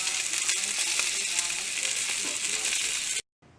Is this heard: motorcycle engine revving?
no